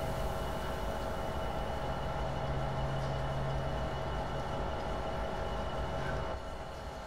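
A steady, loud rumble of a diesel locomotive in a video game, its wheels slipping with a sustained metallic squeal humming through the middle, fading slightly at the end.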